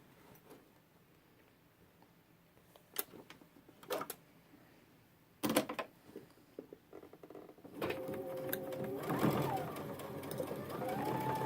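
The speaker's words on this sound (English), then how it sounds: "I'm just sewing within the seam allowance, so that's good." A sewing machine stitches a backpack side panel within the seam allowance, running in short separate bursts before settling into a longer, louder continuous whir near the end.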